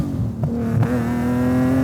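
An 850+ horsepower BMW Z3 M Coupe engine pulls in second gear, a steady, close, throbbing drone with its pitch climbing slightly over a short stretch, with no speech.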